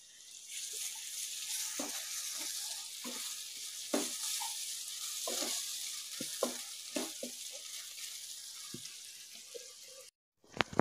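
A spoonful of ginger garlic paste sizzling in hot oil for tomato rice, a quiet steady frying hiss with scattered crackles and spoon clicks, ending in a brief gap and a couple of sharp knocks.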